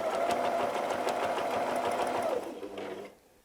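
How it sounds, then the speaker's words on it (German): A sewing machine stitching free-motion quilting, a rose pattern on a quilt, hums in a fast, steady close whir for over two seconds, then slows and stops, leaving a faint mechanical tail. "Und wir nähen einen Schwung zurück, der an dem ersten Schwung vorbeigeht."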